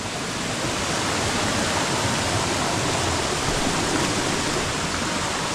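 Soinggong waterfall near Thanchi in Bandarban, heard from its upper section, pours in a steady, loud, broadband roar of rushing water that never pauses, with no voices over it.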